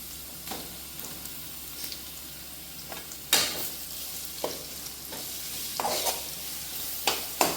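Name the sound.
onion paste frying and being stirred in a pan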